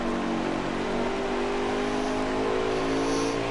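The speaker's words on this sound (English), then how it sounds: "He's feathering that throttle." A stock race car engine at Richmond Raceway holds a steady, loud, droning throttle with slight rises and dips as the driver modulates the pedal, heard up close over track ambience.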